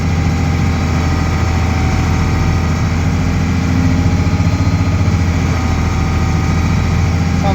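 A farm vehicle engine runs steadily in deep winter snow on a Wisconsin dairy farm while heading downhill, a constant low rumble with vibration and no breaks, loud and close throughout.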